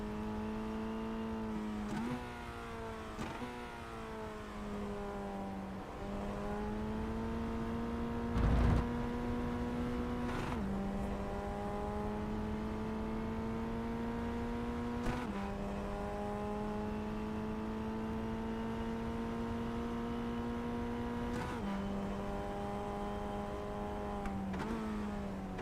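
A Formula Ford FF1600 race car at full throttle, flat out through an S-bend at Okayama, heard onboard: a steady, buzzing high engine drone that rises as it pulls, broken by several brief dips at the gearshifts.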